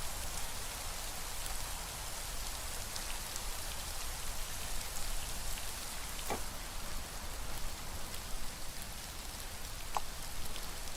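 Steady rain falls in the video game Rising World, a dense, even hiss of drops with a couple of faint sharp ticks, no voices.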